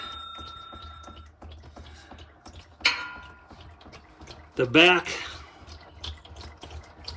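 Transfer case fluid draining from a Jeep Gladiator JT after the drain plug is pulled, heard as a few close, brief bursts of liquid splashing onto a skid plate and into a pan, with a voice speaking at points.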